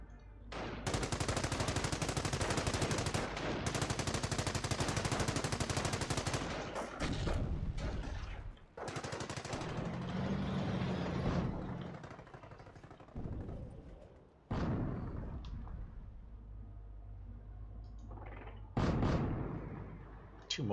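Mortar and gunfire in a World War II video game, with dense, sustained bursts of shooting and blasts in long stretches separated by brief pauses, with some talk partly under it.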